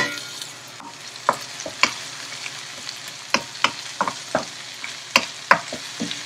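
Onions sizzling in a pan for Mexican rice with black beans, a steady close fry broken by a series of sharp spatula scrapes and taps at irregular intervals.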